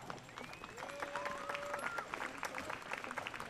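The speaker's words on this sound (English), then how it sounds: "Okay, let's give him a round of applause." A crowd outdoors at a horse pull competition applauds, a scattered, moderately distant clatter of claps. Whistles or calls and murmuring voices mix in.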